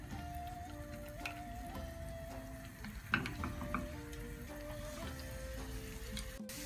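Vegan kibbeh cubes fry in oil in a pan, a faint steady sizzle with small crackles and a few soft clinks close by, and no talk.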